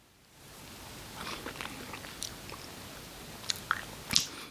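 Someone eating Movenpick maple walnut ice cream, with soft wet bites and chewing close to the mic, a few sharper crunchy bites near the end, no talking.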